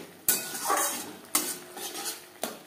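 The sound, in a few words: stirring fish curry in a pan on high flame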